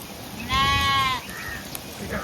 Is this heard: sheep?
yes